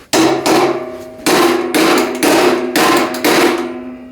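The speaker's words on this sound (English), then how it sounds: "grab yourself a hammer, and you're going to take that, and you're going to kind of beat it into place" Sharp metallic hammer strikes driving a socket onto a rounded-off nut, about seven blows in an uneven rhythm with short pauses, each ringing briefly, close and loud.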